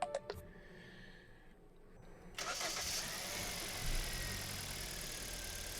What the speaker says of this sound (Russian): После этого можно запускать двигатель.